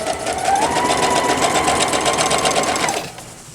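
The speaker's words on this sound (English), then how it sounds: "you guys don't want to see me sewing these" A sewing machine stitches scrappy quilt block pieces in a steady, loud whirring run that stops abruptly near the end.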